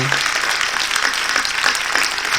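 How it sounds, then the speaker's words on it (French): Steady crowd applause for players after an improvisation show performance fills the clip, a dense wash of clapping with no clear pauses, with a voice faintly audible beneath it. "on peut applaudir bien fort les joueurs pour cette magnifique improvisation"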